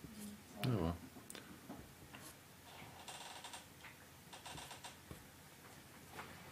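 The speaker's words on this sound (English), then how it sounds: "because I was typing." Typing on a computer keyboard during a live oil painting session, quick soft clusters of key clicks in bursts, with a brief voice near the start.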